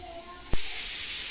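A pressure cooker with dal inside lets out a sudden burst of steam that settles into a quieter steady hiss, faint and close by with no one talking.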